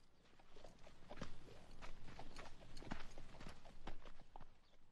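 A horse is walked at a steady pace around a yard, its hooves clip-clopping in an even rhythm at a moderate distance over a low background, with no talk.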